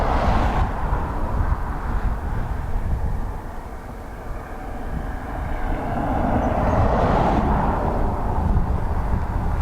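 An Emirates Airbus A380 airliner at Dublin Airport gives off a loud, broad jet roar that swells, dips slightly in the middle, then builds again, heard at a distance outdoors with wind buffeting.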